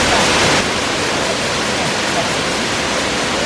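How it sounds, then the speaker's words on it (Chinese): Longgong waterfall on the Taixing falls trail pours with a steady, dense, full-bodied rush of water, loud and close, continuous throughout without other sounds standing out. "今天才知道原来瀑布太大了"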